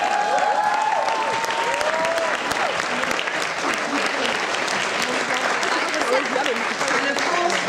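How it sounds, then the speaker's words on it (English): Audience applause at a speech competition event in London, a dense, steady wash of clapping from a large crowd that fills the whole stretch, with faint voices mixed underneath. "So, round of applause."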